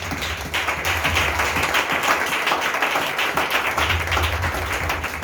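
A church congregation applauds, a dense and continuous round of clapping that stays loud and steady from start to finish.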